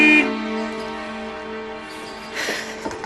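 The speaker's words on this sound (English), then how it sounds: "you can honk the horn all you like, but it's giving her a migraine" A car horn blares in a sustained, tonal honk, loud at first and then held steadily for a few seconds, with some faint rustling near the end and no one speaking.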